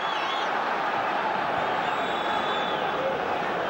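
Dense, steady roar of a football crowd at a Celtic v Hibernian match on 30 April 2005, a continuous broad wash of voices swelling slightly without distinct claps or chants.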